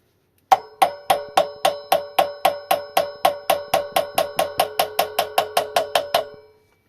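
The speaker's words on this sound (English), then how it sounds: "I'm going to tap this end of the axle slightly with a little hammer." A small hammer taps the axle end of a Wisper 705SE 36V 250W hub motor about two dozen times in an even, quick rhythm, each light ringing strike close by, then stops.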